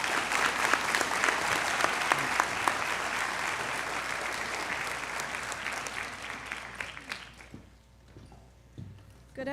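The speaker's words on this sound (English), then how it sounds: "Everyone give them a round of applause." A crowd applauds at a 2022 academy graduation ceremony, with dense, loud clapping sustained for about seven seconds before it thins out and fades to a few scattered claps and quiet room noise.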